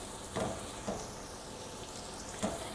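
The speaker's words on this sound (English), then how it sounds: "All right, so with sizzling away, you can see the onions have started to sweat down." Faint, steady sizzling of onions frying in butter and oil in a pan, with a few soft clicks or stirs breaking through the hiss.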